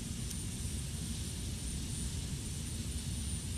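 Boeing 727 jet engines idle steadily while the airliner taxis in Flight Simulator X, a constant low rumble with a whining hiss above it, even and unbroken throughout, with no voices.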